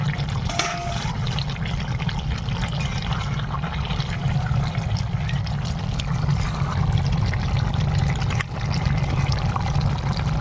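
Water pouring into chicken curry in a pan makes a continuous, loud, close rushing and trickling that stays steady and unbroken throughout, with no voices.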